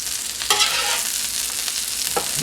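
Chopped cheesesteak meat sizzles loudly on a hot griddle with butter, a close, continuous frying hiss with a couple of spatula scrapes as it gets tossed around.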